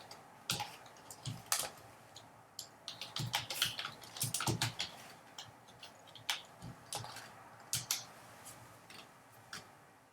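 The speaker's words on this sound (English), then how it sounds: "I'll type it here." Rapid, irregular clicks of typing on a computer keyboard, bursts of keystrokes close and fairly quiet with brief pauses between.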